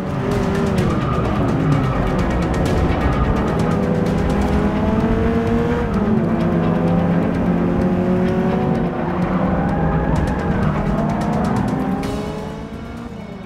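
Race car engines roar continuously in Forza 6 racing, loud and close, with rising and falling pitch sweeps through gear changes and brief tire squeal, fading slightly at the end.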